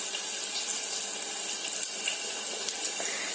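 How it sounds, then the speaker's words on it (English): Mustard seeds crackle and burst in hot oil in a home kitchen pan, a steady close hiss with scattered tiny pops, and no voices. "mustard seeds. So you can see it has already started bursting"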